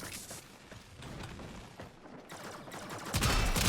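Burst-fire gun in the Warframe video game: rapid, close, loud volleys of shots in quick repeated bursts over a dense mix of game effects, ending in a heavier blast.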